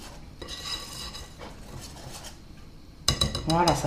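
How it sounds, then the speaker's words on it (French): Chocolate pancake batter whisked in a bowl, with steady scraping and clinking of a whisk against the bowl from about half a second on, growing louder and busier near the end; close and clear with no talk. "On mélange."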